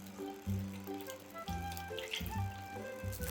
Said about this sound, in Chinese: 往蛋液当中倒入一盒纯牛奶